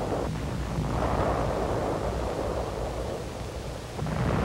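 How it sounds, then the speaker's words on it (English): Improvised explosive charge with a 5-gallon gasoline can blasting an enemy pillbox in 1945 Pacific combat, a deep rumbling roar that swells and rolls on for several seconds, heard on old wartime film. "An explosive charge and a 5-gallon gasoline can is improvised to blast an enemy position"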